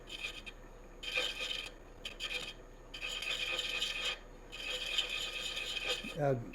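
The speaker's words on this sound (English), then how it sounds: "Now we're going to hand chase threads." A hand chasing tool scrapes threads into a workpiece on a lathe turning at about 300 RPM, giving a raspy cutting sound in several short bursts separated by quieter pauses.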